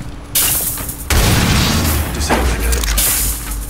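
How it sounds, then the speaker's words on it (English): An EMP grenade detonates in the tactical shooter Rainbow Six Siege, giving a loud, close boom followed by a sustained crackling rumble. A second burst of blast noise follows before the sound fades slightly. "Tossing an EMP grenade."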